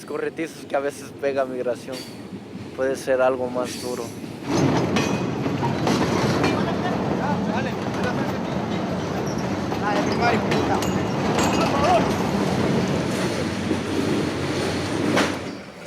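A voice speaks briefly, then a steady rumbling train in the Mexican countryside with rhythmic clattering of wheels on rails continues loudly for the rest of the clip.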